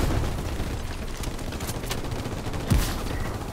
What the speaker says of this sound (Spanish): A la derecha, en el edificio arriba, una ametralladora, ¿eh? Encarada hacia mí.